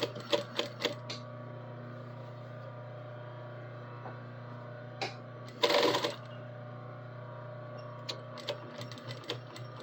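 A sewing machine runs slowly as fabric folds are fed under its presser foot one at a time. A steady low motor hum carries short clicking bursts of stitching, close by, with no talking.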